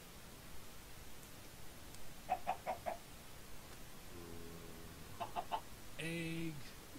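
Chickens in Minecraft give a few short clucking bursts, faint and spaced out over quiet background hiss, alongside a low tonal sound and a brief louder squawk near the end.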